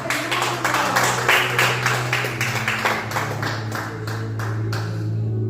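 A church congregation claps together during a sermon, a steady run of fairly loud rhythmic handclaps with no voices, thinning out toward the end over a sustained low organ-like tone.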